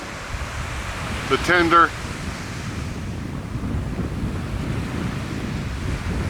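Ocean surf on a beach along the Sea of Cortez in Mexico, a steady rushing wash of waves under strong wind buffeting, with a brief spoken word early on.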